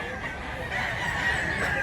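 Nearby, a handsome game rooster crows and clucks without a break, moderately loud and unaccompanied by any talking.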